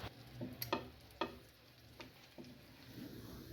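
An egg cheese paratha fries in ghee on a pan, giving a quiet, steady sizzle broken by a few soft scraping and tapping sounds, with no talking.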